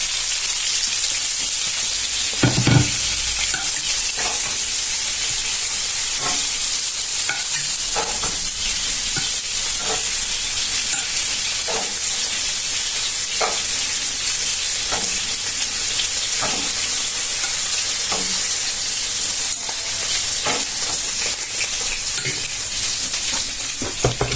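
Beef cheeks go into a hot pot to sear and fry with a loud, steady sizzle and hiss, broken by occasional clicks and scrapes as the pieces are placed and stirred, with no voices.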